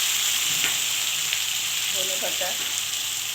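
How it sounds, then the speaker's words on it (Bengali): Ginger-garlic paste fries with chopped dried red chillies in a hot pan, a loud, continuous close-up sizzle, with a voice briefly saying a single word partway through. "এটাকে আমি ভালোভাবে ভাজবো।"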